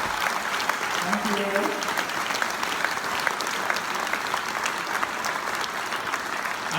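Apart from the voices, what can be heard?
audience applause for four speakers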